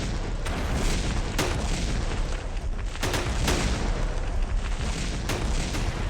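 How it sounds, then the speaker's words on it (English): Repeated booming explosions from a video game with area-of-effect blasts, loud and continuous with sharp bursts recurring every second or two over a dense rumbling background. "I think it might be like a delayed explosion thing,"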